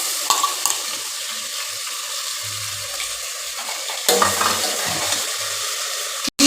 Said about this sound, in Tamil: 2-3 பச்சை மிளகா போட்டு அதையும் நல்லா வதக்கிக்கலாம்